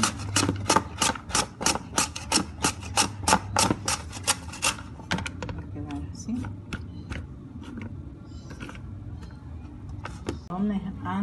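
Garlic is pounded in a mortar for shrimp in garlic sauce. About fifteen sharp, rhythmic strikes come in quick succession, then give way to sparser, softer taps and scraping.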